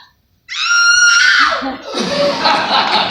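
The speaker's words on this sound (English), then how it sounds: "Let's all hear how you would scream!" A woman lets out a loud, sustained high-pitched scream that breaks into a ragged, strained shriek, close and alone.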